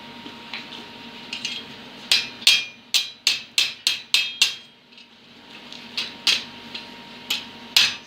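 Crisp metallic taps from a small hammer, struck in quick runs of several blows with short pauses between, close and fairly loud.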